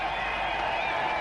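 A cricket stadium crowd roars and applauds a six at a 1996 India versus Pakistan match, a steady, dense wash of distant clapping and cheering that fills the whole brief moment.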